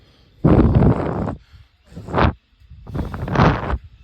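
A person blows three times in short, close bursts onto a pigeon's feathers, with quiet pauses between the puffs.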